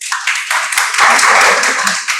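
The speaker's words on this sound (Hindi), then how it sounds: "वेरी गुड, तालियां हो जाए।" A crowd of vocational training students claps loudly and continuously at a career talk, a dense wash of applause up close, with some voices mixed in underneath.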